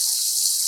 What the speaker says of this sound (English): So I'm going to start by adding cold water to my rinsing bowl.